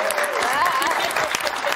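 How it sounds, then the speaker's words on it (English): Studio audience applause welcoming two comedian guests onto a TV chat show, a steady, dense wash of clapping from a crowd, loud and close and continuous throughout. "They applauded you after that."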